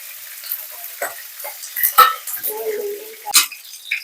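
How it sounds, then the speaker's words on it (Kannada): Green chilies, curry leaves and dry red chilies drop into hot oil after mustard seeds for a tempering, giving a steady close sizzle with several sharp crackles and spoon scrapes against the pan. "ಸಾಸಿವೆ ಆದ್ಮೇಲೆ ಹಸಿಮೆಣ್ಸಿನ್ಕಾಯಿ ಕರಿಬೇವು ಒಣಮೆಣ್ಸಿನ್ಕಾಯಿ ಹಾಕೋತಾ ಇದ್ದೀನಿ"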